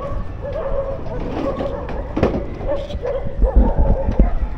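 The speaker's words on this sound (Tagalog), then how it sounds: "Ang daming aso." Dogs bark and yip outdoors near a bridge, several short barks spread across the moment at moderate distance, mixed with background noise and a passing vehicle-like rumble.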